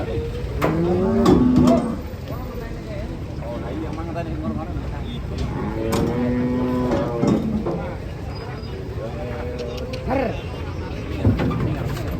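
Cattle being unloaded from a truck moo several times, long low calls rising over a noisy outdoor background, with people talking in between.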